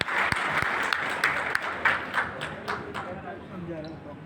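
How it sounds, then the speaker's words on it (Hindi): A crowd at a political gathering applauds loan recipients on stage, a steady wash of clapping at moderate distance with voices over it. "हम सब जोरदार तालियों से इनका अभिनंदन करें, इनका स्वागत करें।"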